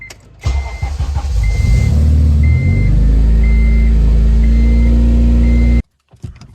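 A car with a loud K-tune exhaust pulls away, its engine roaring up close and low for several seconds with a repeating chime pulsing above, then cutting off abruptly.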